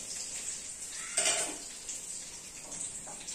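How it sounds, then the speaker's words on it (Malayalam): Mustard seeds pop and sizzle in hot oil in a pan while a chicken fry is cooked, a steady bright hiss with a clatter of utensil on pan partway through. "അപ്പൊ ഇത് കടുകൊക്കെ പൊട്ടുന്നുണ്ട്."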